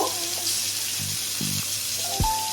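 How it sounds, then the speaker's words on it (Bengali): Food frying in a pan during preparation of stuffed pointed gourd, a steady close sizzle with a few short tonal clinks and one sharp knock near the end, no speech. "তাহলে এখন আমি ভেজে নিচ্ছি।"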